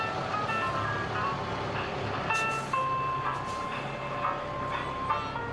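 Tinkling, jingle-like music comes from a truck in a Christmas parade. It plays moderately loud and steady, with faint crowd and street ambience around it.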